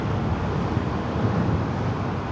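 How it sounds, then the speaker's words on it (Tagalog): Road traffic on Marcos Highway, a steady broadband roar of passing vehicles heard from inside a car, continuous and fairly loud with no talk. "Ayan, traffic din sa kabila."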